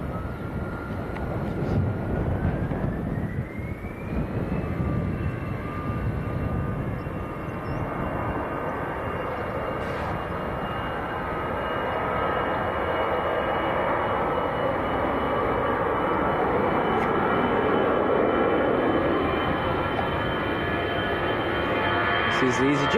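An EasyJet airliner departs Manchester Airport bound for Copenhagen, a sustained, broad jet roar with a rising whine that builds and holds as it climbs away at a distance.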